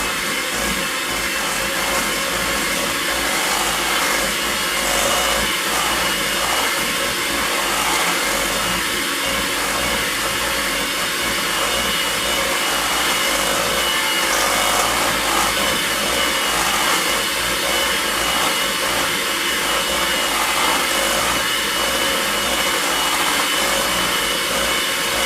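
Electric hand mixer beating a stick of Philadelphia cream cheese with half a stick of room-temperature butter for strawberry cream cheese icing, a steady, loud continuous whir that runs unbroken throughout with no talking.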